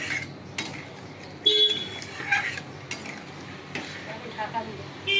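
Water goes into a sizzling pan of potato and eggplant fish curry: a close hiss and bubbling with intermittent clinks of a spoon against the pan, rising briefly in bursts.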